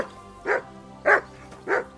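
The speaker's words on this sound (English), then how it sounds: "Good dog, Mutt." A dog in the medieval role-playing game Kingdom Come Deliverance 2 gives three separate deep barks, evenly spaced about half a second apart, loud and close against a quiet background.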